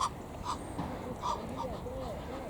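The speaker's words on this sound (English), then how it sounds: "The seagulls. Flock of seagulls." Several seagulls in a flock call in short harsh cries at fairly close range while out on a walk, their calls repeating at irregular intervals over steady background noise.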